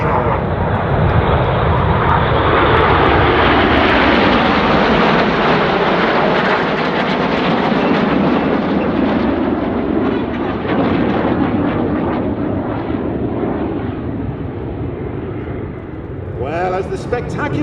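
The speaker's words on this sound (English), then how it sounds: "Red 1 about to bank the aircraft to the left, changing smoke colour as they go in Tornado" RAF Red Arrows jets fly the Tornado manoeuvre at the Oregon International Airshow, a loud, sustained roar of jet engines sweeping past with a shifting pitch, while a commentator talks over it throughout.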